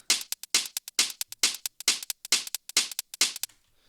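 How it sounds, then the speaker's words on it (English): Rapid hi-hat ticks running in steady sixteenths, layered with louder open hats landing on a regular beat, bright and close, no voices, in a drum pattern. "So this hi-hat is actually just playing 16th notes through the whole song."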